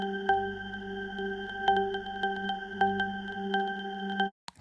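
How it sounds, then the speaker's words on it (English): Omnisphere's resonant raindrops sample rings out as a sustained tonal drone with bright, plinking droplet-like accents scattered over it, steady for several seconds before stopping abruptly, with no one talking. "on this layer we've got a sample called resonant raindrops"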